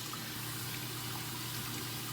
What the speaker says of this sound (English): Always wash your vegetables with warm water ideally, so you can get rid of any bacteria or germs